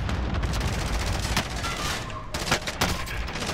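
Rapid gunfire in the Call of Duty: Modern Warfare shooter game, a loud steady stream of shots with a few sharper cracks standing out near the end, continuous and close.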